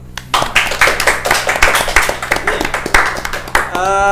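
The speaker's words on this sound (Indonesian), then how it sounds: "Tepuk tangan dulu dong." Studio audience clapping for a guest on a mystic-themed Indonesian podcast, a short burst of distinct hand claps, close and lively, ending as a voice begins speaking.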